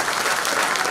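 An audience at a folk concert in Moinești applauds a men's choir and folk orchestra, a dense, steady wash of many hands clapping with no distinct voices.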